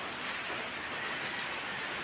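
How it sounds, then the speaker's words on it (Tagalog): Rain falls outdoors as a continuous, even hiss of drops on surfaces, holding steady with no voices over it. "Kasi nga umuulan"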